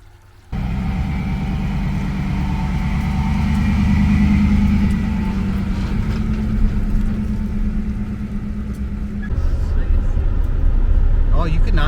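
An RV drives along the road with a steady low engine and road rumble close by, running continuously under a voice speaking throughout.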